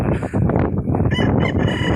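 A redhorse-type gamefowl rooster gives loud, close, harsh clucking and squawking calls in quick succession over about two seconds.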